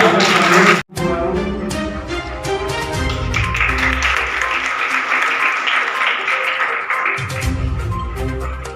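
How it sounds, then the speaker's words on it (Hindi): Sustained, dense audience applause at an NSS camp ceremony at Bardah PG College, loud and continuous after a brief drop near the start, with a voice calling out over the clapping. "तालियां बजाते रहो।"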